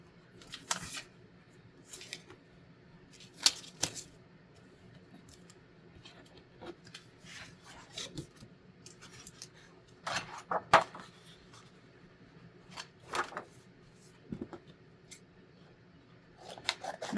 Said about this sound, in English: let me cut a piece of paper for that one